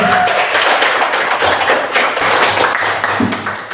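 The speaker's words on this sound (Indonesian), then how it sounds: "Beri tepuk tangan untuk Henry." A class of students claps for a classmate during a physics lesson on measurement, a dense, steady patter of many hands at close range that tapers slightly toward the end.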